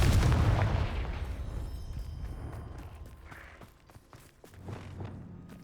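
A Confringo fire spell detonates in Hogwarts Legacy, opening with a loud, deep boom that rolls into rumbling debris and crackle, then fades into softer in-game thuds and footsteps-like knocks.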